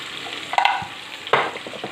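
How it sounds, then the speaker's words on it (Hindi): Red chili powder and salt sizzle in a hot pan while a utensil stirs them, two sharp bursts of frying rising over a low steady crackle. "इस सब मसाले को हम ज़रा भून लेंगे, पका लेंगे इसको"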